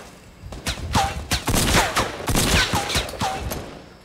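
Gunfire in Fortnite: a quick series of sharp, loud shots in uneven bursts, close up, with brief whistling ricochet-like tones between them.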